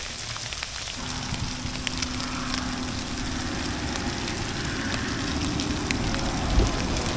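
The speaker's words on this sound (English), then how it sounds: "now it is hailing" Hail pelting a tarp over a hammock camp in snowy weather, a steady dense patter that holds evenly throughout with a faint low hum beneath.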